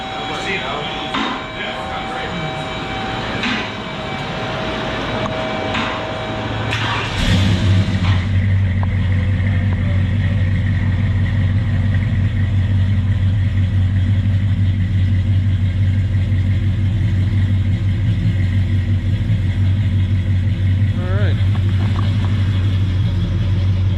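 Custom-built car from Street Metal Concepts on a test drive, its engine rising into a loud steady drone with a deep rumble after a quieter start, heard from inside the car with people talking over it.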